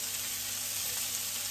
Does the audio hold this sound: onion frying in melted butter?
yes